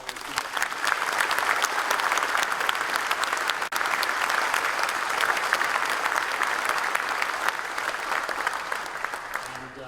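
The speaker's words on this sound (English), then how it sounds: "please, big round of applause for our" Sustained audience applause fills a conference keynote hall at a firefighters' association annual conference, a steady dense clapping from a large crowd that holds for the full ten seconds without talk.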